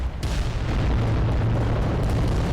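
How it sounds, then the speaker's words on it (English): Titan volcano cannon firing in Adeptus Titanicus: Dominus, a heavy booming blast that opens with a sharp crack and rolls on as a sustained low, roaring rumble. "So we might get one shot with the volcano cannons"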